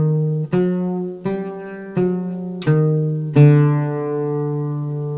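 Five plucked oud notes rise one at a time through the Hijaz jins tetrachord, each a clear resonant attack, with the last note ringing out and slowly decaying.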